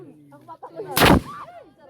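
A single loud gunshot from military confidence firing by an infantry battalion, a sharp close blast, with people talking before and after it.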